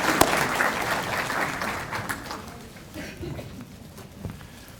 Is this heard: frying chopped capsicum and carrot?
no